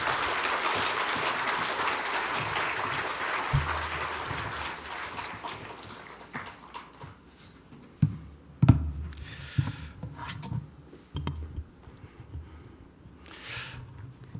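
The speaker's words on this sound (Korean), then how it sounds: "나오실 때 큰 박수로 환영하도록 하겠습니다" Church congregation applauding to welcome a guest pastor at a special dawn prayer service, a dense wash of clapping that fades over several seconds and gives way to scattered knocks and room noise.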